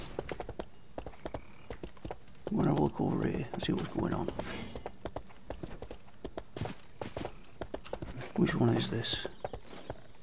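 In the online game RIFT, a mounted horse's hooves clip-clop in a steady walking rhythm throughout, with someone talking over them.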